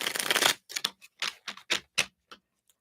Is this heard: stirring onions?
no